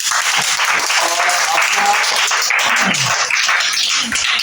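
A classroom of students claps for a pupil who topped an Urdu dictation test, a dense burst of applause that carries on for several seconds with a voice faintly heard over it.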